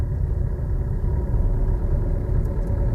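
A car's engine pulls in third gear during a driving-school lesson, heard from inside the cabin as a steady, close, low rumble with no talking.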